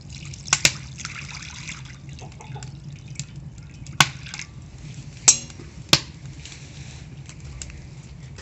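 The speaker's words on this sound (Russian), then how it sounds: "Наливаем водички сюда." Water poured into a homemade steel saj pan with welded handles, heard as a few sharp splashes and scattered drips over a quiet low hum, with soft trickling between the louder drops.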